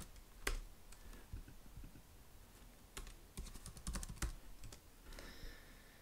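Quiet, close typing on a computer keyboard, a scattering of light clicks in uneven runs with brief pauses between.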